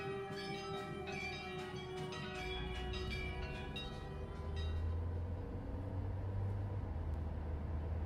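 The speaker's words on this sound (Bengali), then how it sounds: "দূর থেকে ভেসে আসে শ্মশানের ঘণ্টা" A cremation-ground bell tolls from far off at night, its repeated metallic strokes ringing in a steady rhythm while a low rumble swells beneath and gradually takes over.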